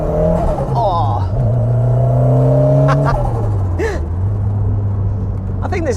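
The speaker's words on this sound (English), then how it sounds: "Nothing sounds much better than that Cossie engine on song." A stage 3 rear-wheel-drive Ford Sierra RS Cosworth accelerates hard. It gives a loud, close engine note that climbs through the revs, with gear changes and turbo chatter breaking the pull.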